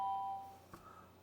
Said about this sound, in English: That sounds like a doorbell.